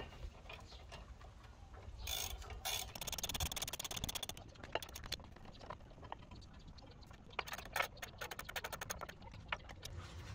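Ratchet wrench torquing up the brake caliper bolts on a Land Rover Discovery 3, a long run of quick mechanical pawl clicks with bursts of faster ratcheting, close and fairly quiet, with no talking.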